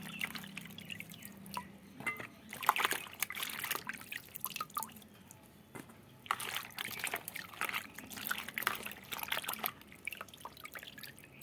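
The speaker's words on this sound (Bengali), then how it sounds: "এইভাবে ঝিঙেটা ধুয়েই সবসময় ছুলে এইভাবে ধুয়ে নিতে হবে" A ridge gourd washed by hand under a running kitchen tap, with close, uneven splashes, drips and trickles of water rising and falling over several seconds.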